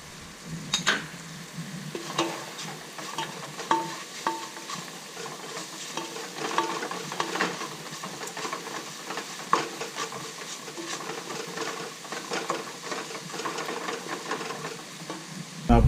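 Caramelized catfish sauce with Thai chili and ground pepper frying in a pan, a soft steady sizzle broken by repeated light stirring clicks and scrapes, fairly quiet and close.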